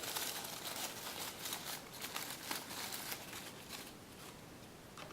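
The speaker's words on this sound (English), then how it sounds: "Starting with the paper, crumpling it up" Sheet of paper being crumpled up by hand, a steady run of soft, close crinkling and rustling with no talk.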